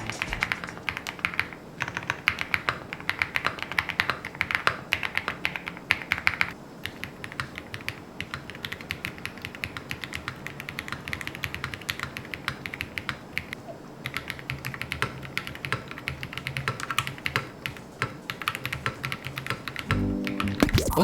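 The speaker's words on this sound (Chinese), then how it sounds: "那么我们就来听一听它的打字音表现吧" Continuous rapid keystrokes on a MECHA-08 custom mechanical keyboard with linear switches and PPT Fans Retro 100 keycaps, a steady close-up clatter throughout with no talking.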